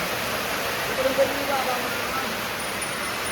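Rainwater streaming into a house during rain, a steady rushing hiss of flowing water with faint voices under it.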